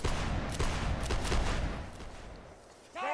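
Musket volley fire crackles through a line battle video game, a dense burst of overlapping shots rolling for a couple of seconds and then fading into a quieter tail before a voice cuts in at the end.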